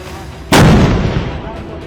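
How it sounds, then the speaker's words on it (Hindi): A Bofors artillery gun fires a single loud, close blast that rings out into a rolling decay lasting over a second. "ये देखिए, ये बोफोर्स गन है।"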